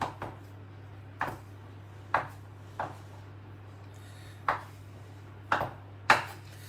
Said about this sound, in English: now I'm using what is called a pastry cutter